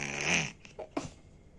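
Someone imitates a father's snoring with their voice: a brief raspy, rattling inhale followed by two short snorting bursts, close and fairly quiet.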